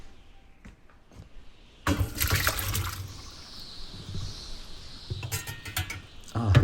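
Cooked pumpkin is drained of its water: after a near-quiet start, a sudden splashing pour begins and settles into a continuing trickle and gurgle, close by, with some small clatters.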